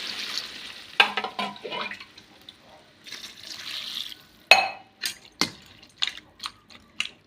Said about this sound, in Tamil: சுடுது நீர் ஊற்றுறேன்